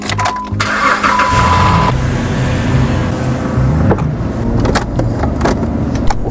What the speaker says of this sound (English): put it in reverse, and then when I try to back the car up, it feels a little stuck